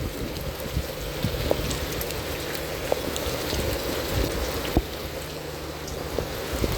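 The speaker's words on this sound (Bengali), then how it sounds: "কিন্তু বাসায় যাইতে না যেতে বৃষ্টি শুরু হয়ে গেছে" Steady rain pours down in a broad, even hiss with scattered louder drops and taps, continuous and close, no voices.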